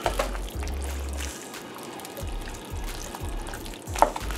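Thick slow cooker chili being stirred in a big pot, with a run of wet, heavy scraping and squelching strokes that come in irregular pulses, close up and fairly quiet, with no talking.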